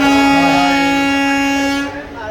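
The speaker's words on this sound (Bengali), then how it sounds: "হ্যাঁ, তো এখন ট্রেন ছাড়লো।" A train's loud sustained horn blares for about two seconds, then cuts off, leaving rumbling rail noise.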